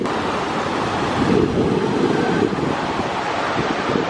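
Ocean surf washing in at Cherai beach, a steady loud roar of breaking waves mixed with gusty wind buffeting the microphone, no voices.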